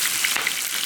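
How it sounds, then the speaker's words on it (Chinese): Crab stir-fried in a wok with dried chilies, Sichuan peppercorns, ginger and garlic gives a brief, steady, close hiss of frying with no pause. "现在开始炒螃蟹哈，干辣椒、干花椒、姜蒜"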